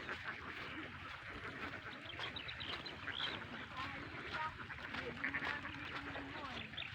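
A large flock of ducks at a rural duck farm quacks continuously in a busy, overlapping chorus around an egg-laying area, with voices talking faintly among the calls.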